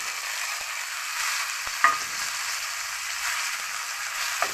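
Thinly sliced tomatoes dropped into a pan of fried spice paste for a Bengali mustard fish dish: a constant soft sizzle with a couple of sharp clicks from a utensil, close and unvoiced.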